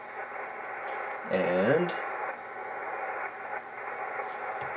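Yaesu FT-450D amateur radio receiving on the 20 meter band: steady hiss and static with a faint warbling tone and a brief burst of distorted signal audio, a voice speaking briefly.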